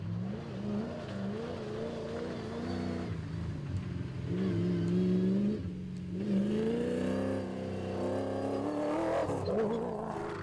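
Castrol Toyota Hilux rally car in the Dealer 450 (2014), heard on board at speed: a loud, continuous engine drone that rises and falls with revs and gear changes for the whole stretch, with no talk.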